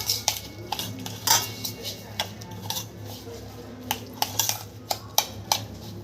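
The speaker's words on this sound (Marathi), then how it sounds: "मी त्याच्यात दही ॲड करणार आहे दही टाकायचं आहे आपल्याला आणि छान त्याला मिक्स करून घ्यायचं" Semolina and curd are stirred together in a pot for rava uttapam batter, with a spoon clinking and scraping against the metal in irregular bursts, fairly close and alone.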